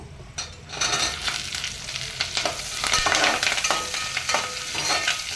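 Green chillies, onion and curry leaves frying in a pan, a loud continuous sizzle with crackling spits and occasional scrapes of stirring, close and with no talk over it.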